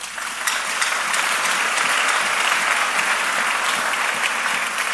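A church congregation applauding after a Bible reading, a dense, sustained clapping that fills the space evenly for several seconds without voices on top.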